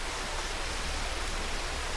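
Creek water flowing near a hanging bridge in San Mateo, Rizal, a steady broadband rush that continues without a break.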